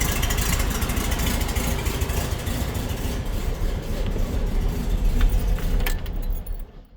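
A 1952 Volkswagen Standard Beetle with its 25 hp air-cooled engine idles through a stock exhaust, a steady, close, loud low rumble that holds without pause before easing off in the final second.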